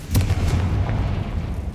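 A Confringo fire spell explodes in the video game Hogwarts Legacy, a loud, deep, rumbling boom that rolls on for under two seconds with no voices.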